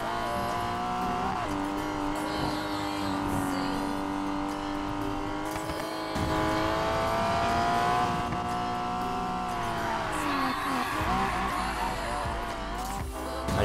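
Porsche engine in Need for Speed Payback roaring at steady high revs with shifting pitch during a race, loud and continuous, with brief tire noise and a dip in revs near the end.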